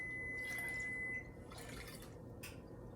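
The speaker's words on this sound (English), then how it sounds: "All right, so I am pouring water. What water am I pouring? Distilled water." Distilled water pours from a gallon jug in a kitchen, a steady close trickle and splash with a few brief drips, with no voices.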